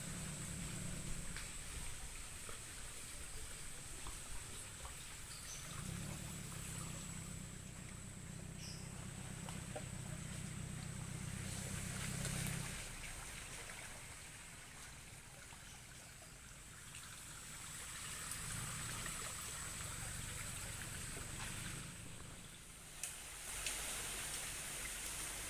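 The flooded Cikeas river rushes after heavy rain, a continuous broad wash of moving water that swells and eases, heard steadily from nearby with no talking.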